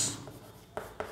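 Chalk writing a line across a classroom board, marked with star symbols: faint, close scratchy strokes with a couple of sharper taps near the end, no talking.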